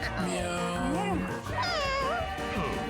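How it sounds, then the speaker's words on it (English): A cat meow sound effect from a meow button in the video game Mewgenics sounds several times, high and wavering, over game music and background sound. "There's also a meow button."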